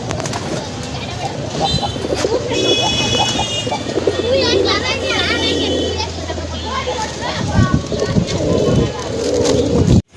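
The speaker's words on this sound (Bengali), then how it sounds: "মাশাআল্লাহ আরেক জোড়া কবুতর," Pigeons including Giribaz-type birds coo at a pigeon sale, the soft calls mixed into a busy, noisy setting while someone talks loudly over them throughout.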